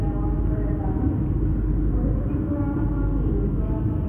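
Deep, steady rumble of a passenger train on the Mutiara Timur service pulling away, heard from inside an economy carriage; a dense low-frequency drone runs unbroken throughout with no clear talk.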